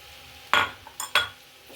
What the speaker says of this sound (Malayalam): നല്ലപോലെ ഒന്ന് ഇളക്കിയിട്ട്